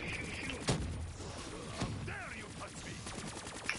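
Gunfire and game effects in a zombies video game, several sharp shot bursts and thuds scattered through a busy mix with faint talk in the background.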